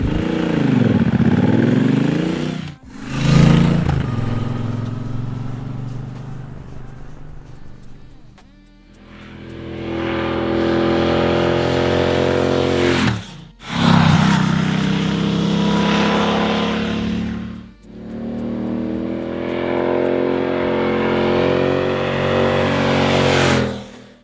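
A Triumph Bobber or Speed motorcycle engine fires up and revs hard, rising and falling in loud roaring surges with brief drops between throttle blips, close to the listener.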